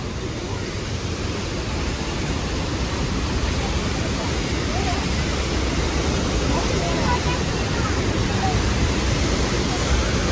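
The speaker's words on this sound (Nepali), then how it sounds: "यस्तो मजाले फोर्समा पानी फालेको छ के" A loud, steady roar of water gushing through a gate of Yamba Dam in Japan, continuous and close with no pauses, in cold weather.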